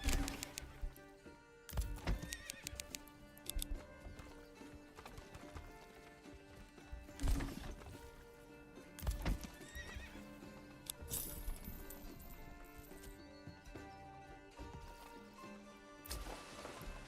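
Horses in the medieval strategy game Manor Lords neigh loudly now and then over steady clopping hooves, with occasional thunks and clanks mixed into the busy game sound.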